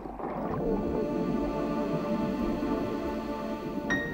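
Humpback whale song recorded underwater off the Dominican Republic: sustained tonal moans and groans over a steady watery background, with a brief higher call near the end and no voices.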